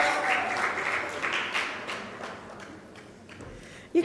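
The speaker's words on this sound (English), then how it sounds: "You can't fizzle out the applause, you know" An audience applauds as debate teams walk up to the platform at a public sector debate competition grand final, a steady wash of clapping that slowly thins, with a sharp thump near the end.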